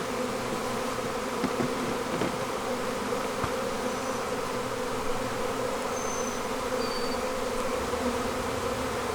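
Honey bees buzzing at a beehive, a dense continuous droning hum from many bees close by, steady and loud throughout with no talking.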